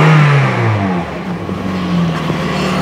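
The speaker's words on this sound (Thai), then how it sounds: "ฟังเสียงเครื่องครับฟังเสียงเครื่องก่อน" Engine of a 2014 Toyota Vios automatic, E model, on its original engine, idles after a brief rev that settles into a smooth, steady hum, heard close up with no talk.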